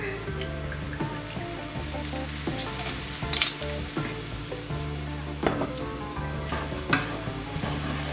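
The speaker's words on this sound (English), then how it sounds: "And then I'm going to add my rice wine vinegar." Garlic, ginger, chilli and rice wine vinegar sizzle steadily in a pan over low to medium heat, with crackling, spitting frying and a few stirring clinks, close and continuous with no talk.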